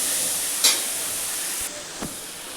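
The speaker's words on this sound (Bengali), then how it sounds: "মশলাটা কষে নিই ভালো করে।" Masala paste for a shol fish curry frying in a pan, a steady soft hiss and sizzle with a brief spatter burst and a couple of faint clinks, alone and close.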